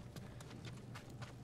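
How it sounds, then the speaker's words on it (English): Horse hooves clip-clop in the video game Ghost of Tsushima, a quick rhythmic run of hoofbeats over a low ambient drone. "Everybody loves horses."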